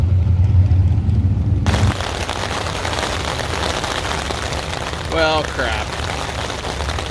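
Rain falls at a drag racing track, a broad steady hiss of drops that takes over after a low rumble, with someone speaking briefly midway.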